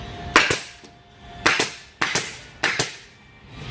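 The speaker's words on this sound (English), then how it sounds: "I temporarily brought the staple gun over here" Staple gun firing staples into a cabinet during assembly: several sharp, close snaps in quick pairs, spaced roughly half a second to a second apart, with no talking.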